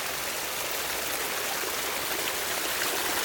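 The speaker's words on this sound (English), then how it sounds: "cave where the water flows between the two rocks" Continuous rushing splash of water falling between two rocks into a small cave in a pondless garden waterfall, a steady, close, even hiss with no talking.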